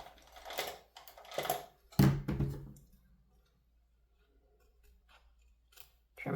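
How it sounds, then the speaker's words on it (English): Scissors snipping through paper while trimming a handmade card, a few crisp close cuts in quick bursts followed by quiet handling. "Take our scissors."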